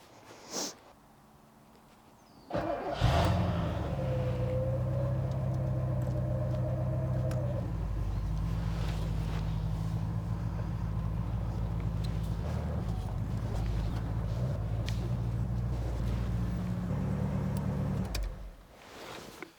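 A Porsche 928 engine starts and rumbles steadily nearby as the car is driven slowly back inside, then cuts off near the end.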